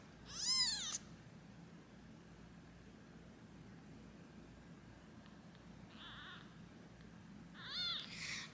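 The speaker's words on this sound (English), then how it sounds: "The little baby is meowing." A newborn kitten, abandoned by its mother, gives a few high, thin meows: one loud cry at the start, a faint call in the middle and another near the end, over a steady quiet hiss.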